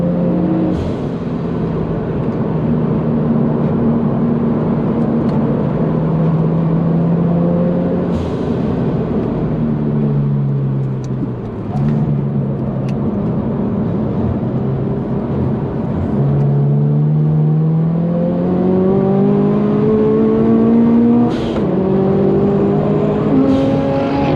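A Subaru driven hard at speed on a track, its engine note climbing and dropping through gear changes and corners; loud, continuous and close, with no talking.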